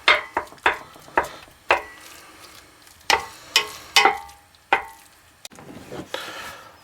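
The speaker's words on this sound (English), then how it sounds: "We're going to constantly break up the meat" Ground meat cooking in a pan is broken up with a utensil in a series of sharp, close scraping knocks, irregularly spaced over a faint sizzle. No one speaks.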